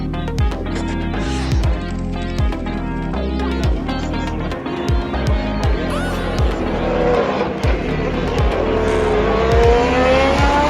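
Race cars roar past in a continuous loud blur of engine notes and rapid gear shifts at the Montreal Canadian Grand Prix track, several passes rising and falling across the clip, no voices heard.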